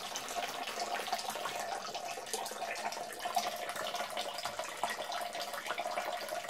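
Sugary wort running off from the mash during sparging on a brew day, a steady, even trickle of flowing liquid, fairly quiet and continuous, with no talking.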